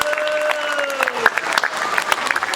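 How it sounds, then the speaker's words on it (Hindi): Guests at a wedding ceremony clap as a blessing, giving scattered, uneven claps that build into loose applause, while a sustained tone fades out under the first second. "लगा देना आशीर्वाद वाली जोरदार तालियां"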